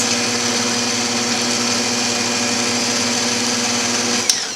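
An electric mixer beating carrot cake batter at higher speed: a steady, loud mechanical whine with a constant hum, ending in a brief clatter, and no one speaking.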